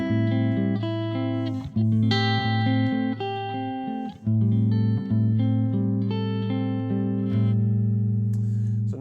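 Clean electric guitar sent direct from a Kemper profiler using a Dr. Z Maz 38 amp profile plays sustained, ringing chords and melodic notes, bright and steady, with no voice.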